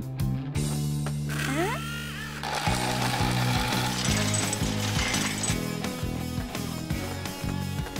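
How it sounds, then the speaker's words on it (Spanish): A cartoon crane's motor runs with a rhythmic mechanical chugging and ratcheting that repeats steadily for several seconds, loud and close, alongside a low tonal hum. "¿por qué detuviste el motor de la grúa?"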